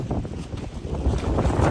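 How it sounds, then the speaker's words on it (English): Strong wind gusts buffet around a Stageline SL75 trailer, a loud, rumbling roar with turbulent bursts that swell and ease over a couple of seconds. "it's crazy windy"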